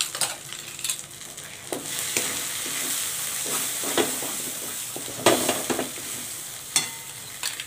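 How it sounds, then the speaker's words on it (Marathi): A spoon stirs a sizzling masala mixture with garam masala in a pan, giving irregular scraping strokes over a steady frying hiss, close and moderately loud. "हे सगळं मिक्स करून घ्यायचं आहे."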